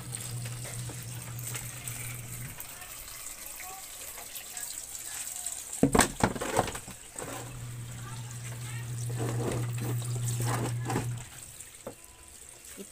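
Water gushes steadily from a tap in a continuous hiss, with a person talking over it and a few knocks midway.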